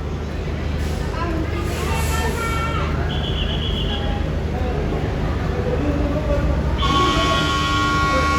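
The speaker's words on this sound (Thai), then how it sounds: "ปล่อยขบวน 445 ออกจากสถานีรถไฟสุราษฎร์ธานี" Train 445 moves off from Surat Thani railway station, Thailand, under steady rumbling, with a couple of horn toots and long tonal squeals, while people talk in the background.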